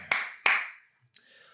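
Two sharp, crisp hand claps ring out close and distinct with a short echo tail, followed by a faint light tap in otherwise quiet surroundings.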